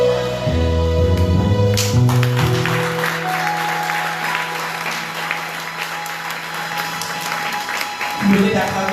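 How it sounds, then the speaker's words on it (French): A church congregation applauds after songs during a Sunday service, sustained clapping continuing throughout as sustained musical tones and a keyboard-like chord linger, then fade near the end. "Vous venez d'acclamer les chants."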